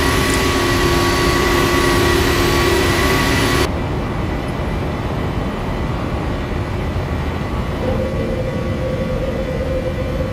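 Airliner jet engines drone steadily at high power during the climb after takeoff in a flight simulator, a loud, continuous roar with a constant whine running through it.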